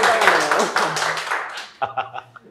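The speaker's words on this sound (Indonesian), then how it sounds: "Tepuk tangan dong." A small audience claps at a talk-show interview about an MC's career, brief scattered clapping alongside voices that fades out and leaves a few lone claps.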